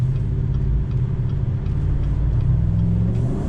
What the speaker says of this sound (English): with that V8 grumble coming from the Flowmaster exhaust